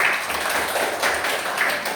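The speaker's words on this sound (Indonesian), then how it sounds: "Beri tepuk tangan" Students in a classroom clap together, a loose round of hand claps with a few stronger bursts, moderately close and without talk over it.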